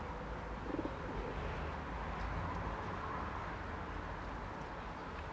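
Flight pigeons coo softly in a loft, a low murmuring call rising briefly above a constant backdrop of faint noise, with no voices present.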